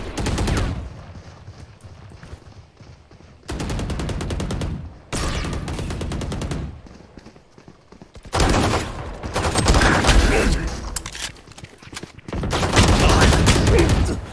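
Repeated bursts of automatic rifle fire from Valorant gameplay, several loud sprays separated by short pauses, each a rapid machine-gun rattle, with occasional quieter gaps between volleys.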